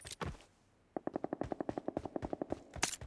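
Rapid automatic gunfire in the video game PUBG Mobile rattles off in a fast, even burst of about twenty shots, preceded by a couple of sharper isolated bangs.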